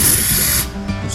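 A brief, loud hiss of aerosol brake cleaner spray bursts close up on a Foxbody Mustang part, then tapers off into a softer sputter within about a second.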